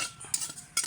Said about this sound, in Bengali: এই যে এখানে আমি তিলটা ভেজে নিচ্ছি